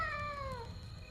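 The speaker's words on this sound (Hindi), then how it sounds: "तभी दो सर वाली एक काली बिल्ली समीर के पास आकर बैठ गई" A black cat gives a single drawn-out meow, a falling wail as a horror sound effect, faint over a low rumbling background.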